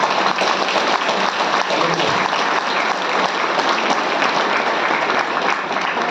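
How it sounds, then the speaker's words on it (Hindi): A large gathering at a spiritual discourse claps heartily in a loud, continuous, dense roar of applause that stays steady throughout. "ताली बजाओ, अच्छी तरह से ताली बजाओ, ताली बजाओ"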